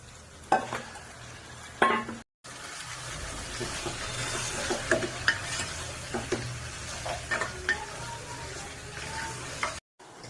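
Pieces of mutton drop into onions frying in oil for a Telugu mutton curry, setting off a loud, close, sustained sizzle with stirring scrapes and spoon knocks, briefly cut off twice.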